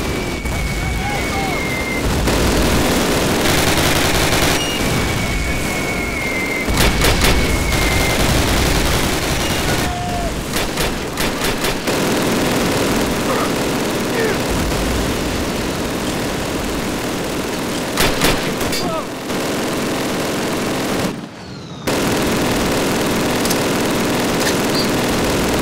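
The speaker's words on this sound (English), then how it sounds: "MG-42, hit the dirt! Get suppressing fire on those 42s!" Sustained MG-42 machine gun suppressing fire in a LEGO D-Day battle scene, a dense continuous rattle mixed with booms and aircraft drone; voices shout over the din.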